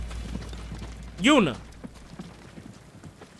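A game horse in Ghost of Tsushima makes a short, loud burst of clip-clopping hooves around the middle of the clip. Voices talk through the rest of it.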